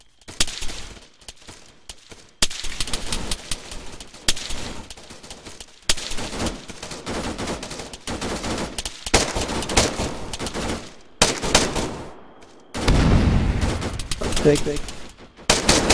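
Airsoft gunfire in an outdoor role-play game: repeated bursts of rapid shots and sustained volleys, loud and close, with players talking between and over the shooting.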